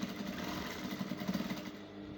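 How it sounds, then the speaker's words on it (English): A sewing machine runs continuously, stitching a waistband between lining and fabric on a 360° flare mini skirt, with a close, even mechanical whir and faint rhythmic needle chatter throughout, no voices. "So I'm just going to go ahead and sew a little bit above half"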